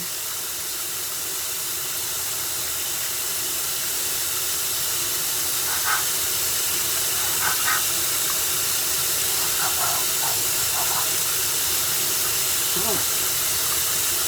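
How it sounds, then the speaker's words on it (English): Running water pours steadily as soap is rinsed off a delicate spoon, a constant hissing wash close by, with a few brief soft clinks and a short voice partway through. "Rinse that soap off."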